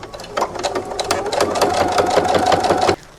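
A sewing machine stitches slowly around the pocket flap of a fabric bag in a steady, close, mechanical run for about three seconds, then stops abruptly.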